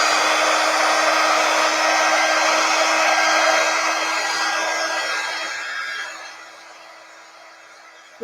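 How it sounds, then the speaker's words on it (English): A quick dry heat tool blows a loud, steady whoosh over chalk paste on a Chalk Couture design, then fades and cuts off near the end. "I'm going to hit it real quick with my quick dry tool."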